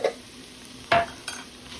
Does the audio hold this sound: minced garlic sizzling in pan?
yes